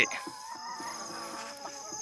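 Laying hens in a coop cluck nearby, several short, overlapping calls over a quiet background.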